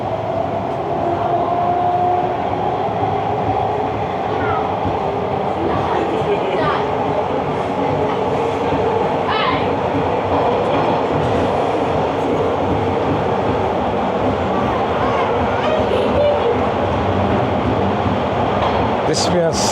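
Toronto subway train running between stations on the line toward Bloor-Yonge, a loud continuous rumble and rattle with rolling wheel noise and faint squeals, steady for the whole stretch.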